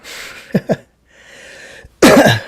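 A person on a live stream gives a couple of quick, close coughs, pauses briefly, then lets out one harsher, louder cough.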